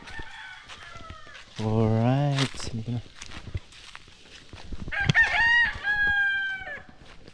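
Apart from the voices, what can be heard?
chickens and chicks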